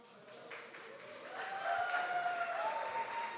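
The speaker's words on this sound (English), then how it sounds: "Round of applause for everybody." Moderate crowd applause at a women's jiu-jitsu team trophy ceremony, steady clapping that grows a little louder midway as music plays over it.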